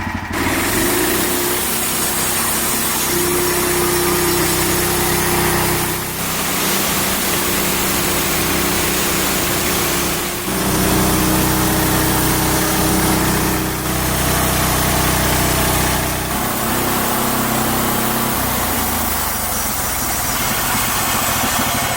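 A loud sawmill engine drones continuously at a steady idle while cutting a log, rough and close, with a few brief dips in its roar throughout.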